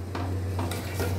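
Rice kheer with milk is stirred in a pot over a high flame, with a few soft spoon scrapes and clinks against a steady low hum. The stirring is brief and close, and no one speaks.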